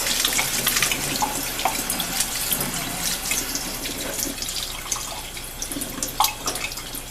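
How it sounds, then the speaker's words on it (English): Water is pushed through a fountain pen to flush it clean, running and splashing steadily up close, with small irregular drips and trickles over a constant rushing flow. "So I think we'll try to push some water directly in it."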